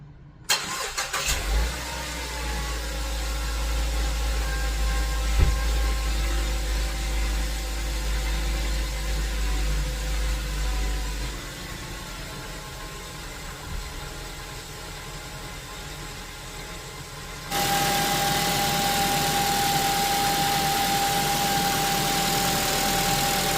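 A car engine cranks and catches after DIY repair work, then settles into a steady idle heard close for over twenty seconds, with a slight shift in tone partway through and no talking.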